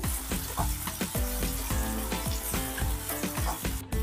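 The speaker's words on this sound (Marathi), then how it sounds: "टोमॅटो हे छान परतल्या गेले तेलामध्ये." Tomatoes fry in hot oil over a medium gas flame, with a loud continuous sizzle broken by rhythmic scraping knocks as they are stirred in the pan. No one speaks.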